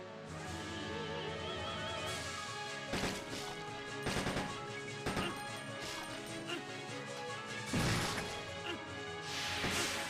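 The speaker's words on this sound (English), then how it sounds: "So shooting with the handgun is enough to trigger to save Claire." Handgun shots in Resident Evil Code Veronica, sharp cracks repeating every second or two over a sustained musical score, with a louder burst near the end.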